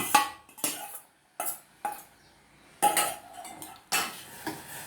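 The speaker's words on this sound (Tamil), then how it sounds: "நம்ம இதில் வந்து கடைஞ்சி வச்ச சாதத்தை போடுறோம்" Mashed cooked rice is added to a pot of dissolved rock sugar for kalkandu pongal, giving several separate clinks and scrapes of a spoon against metal cookware with short pauses between them and no talk.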